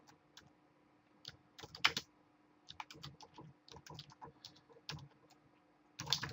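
Keys clatter on a computer keyboard in irregular bursts of quick, crisp clicks separated by short pauses, fairly quiet and close, with a couple of heavier keystrokes standing out.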